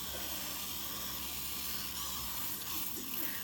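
A steady, quiet hiss of olive oil sprayed from a can onto a 9x13 baking pan in a home kitchen, continuous and even for a few seconds with no talking.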